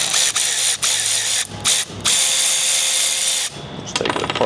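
A ratchet clicks steadily while loosening a hose clamp on a boot kit for a 2006-2010 Chevy/GMC Duramax 6.6L diesel, loud and close in several continuous runs separated by brief pauses.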